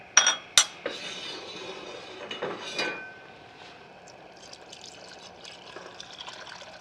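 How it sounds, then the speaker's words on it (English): Beef stock poured from a container into a pot for French onion soup, with sharp clinks of metal at the start, then a steady pouring and splashing of liquid that settles into a soft, trickling fill. "then you can pour the rest of your stock."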